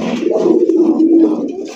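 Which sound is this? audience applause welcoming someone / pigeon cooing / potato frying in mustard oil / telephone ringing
pigeon cooing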